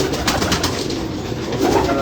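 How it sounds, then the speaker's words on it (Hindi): Pigeons in a breeder's caged lofts in Karachi, soft low cooing from several birds blending into a continuous close murmur under a steady background hum. "ये कबूतरों को आप देख सकते हैं।"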